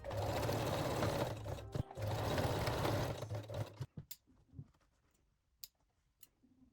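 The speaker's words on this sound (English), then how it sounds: "Now let's move to a regular sewing machine." A regular sewing machine straight-stitches seam edges on thong panties, running in a steady, close whir for about three seconds before stopping, followed by faint clicks and handling noises.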